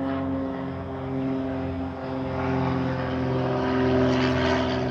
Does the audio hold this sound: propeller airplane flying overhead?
yes